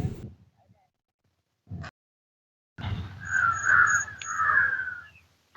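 Crow cawing beside a pond in Sri Lanka, several harsh caws in a cluster over rustling background noise, with brief talk just before.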